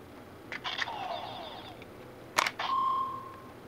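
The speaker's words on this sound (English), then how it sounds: "Every time you take a key out, it also makes more additional sound effects" Gokaiger Mobirates toy keys are pulled out of the toy, setting off short electronic sound effects: a few quick chirps and beeps, a sharp click, then a sustained synthetic tone, fairly quiet and with no talking.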